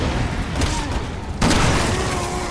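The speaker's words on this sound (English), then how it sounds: "Grenade." In the Resident Evil 6 video game, a grenade goes off as a sudden loud boom partway through, over a constant rumbling backdrop of game sound, with no one speaking.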